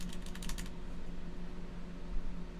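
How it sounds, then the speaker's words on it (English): A burst of rapid key clicks on a computer keyboard during a coding session, a quick close run of taps at the start before quieter background hum. "I just probably didn't finish typing it all out"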